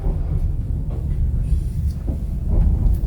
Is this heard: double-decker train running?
yes